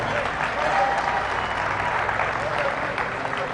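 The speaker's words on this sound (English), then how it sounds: "Let's give them a round of applause." Audience at a county youth fair and livestock show applauds steadily for a few seconds, a dense even patter of clapping filling an arena.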